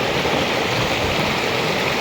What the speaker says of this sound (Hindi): पानी भी ठीक ठाक है, पानी का फोर्स देखिए,